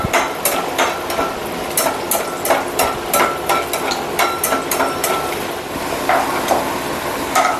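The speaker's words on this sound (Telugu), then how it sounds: "ఇప్పుడు కొంచెం జీడిపప్పు వేసి దోరగా వేగించుకుందాము" Cashews frying in ghee in a pan, a steady sizzle with repeated sharp taps and scrapes of a spoon stirring against the metal, close and fairly loud with no talking.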